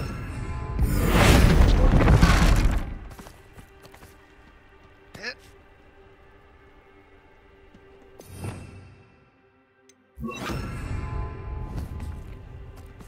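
Bombarda explosion spell cast in Hogwarts Legacy, a loud booming blast that swells and fades over a couple of seconds, followed by softer whooshes and another heavy rumbling burst, with spoken spell incantations around it.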